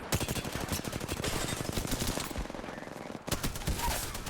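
Rapid gunfire in Apex Legends, a fast rhythmic string of loud shots with a brief pause near the end before more shots resume, close and punchy.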